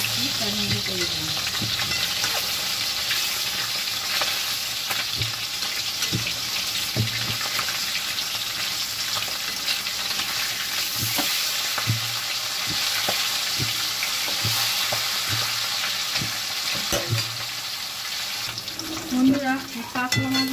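Pieces of catla fish fry in hot oil with a continuous close sizzle and occasional stirring scrapes, while a voice talks faintly underneath.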